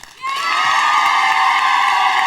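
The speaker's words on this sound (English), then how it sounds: "Give them a round of applause." A children's studio audience on a Scottish TV quiz show cheers and applauds, a loud, sustained burst of high shouting and cheering that starts abruptly and holds steady.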